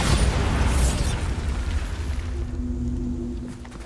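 The Bombarda blasting spell exploding in Hogwarts Legacy: one loud, close booming blast with a heavy low rumble that fades over a few seconds into a lingering low hum.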